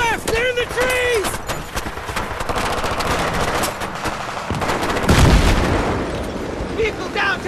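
Battlefield 3 campaign firefight in a wooded ambush: sustained dense gunfire crackles throughout with a heavy booming blast near the five-second mark, while voices talk over the combat and a tonal whistle-like sound rises early on.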